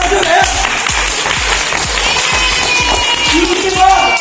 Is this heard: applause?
yes